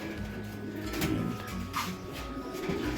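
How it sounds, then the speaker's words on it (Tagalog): Pigeons cooing inside a newly built wooden loft, soft low repeated coos near and far over a quiet background with faint bumps and scrapes. "Yan ang mga ibon natin."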